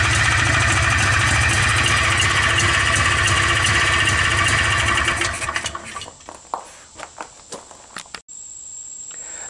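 A Polaris Xplorer 250 ATV, fitted with a Yamaha Blaster carburetor, runs loud and close at a steady idle, then the engine cuts out. Sharp clicks and knocks follow, then a steady tone returns at the end.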